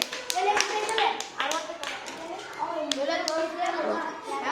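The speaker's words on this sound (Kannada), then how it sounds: "ಇವಂಗು ಚಪ್ಪಾಳೆ ಹೊಡ್ರಿಪ್ಪ ಎಲ್ಲಾರು, ಹೊಡೀರಿ" A group of schoolchildren claps in a loose, uneven burst of sharp slaps, with young voices talking over the applause.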